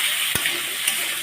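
Potatoes, pumpkin and carrots fry in a pan for sago khichdi, giving a steady close-up sizzle with a brief clatter of stirring partway through.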